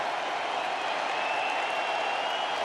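Packed baseball stadium crowd of Dodgers fans at a World Series game against the Red Sox, a steady dense roar of cheering and applause that holds at an even level for a few seconds.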